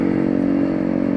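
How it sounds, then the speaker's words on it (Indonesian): A noisy motorcycle engine drones loudly and close, a steady rough buzzing hum with a rattly edge, filling the whole short moment without speech. "ada suara motor berisik"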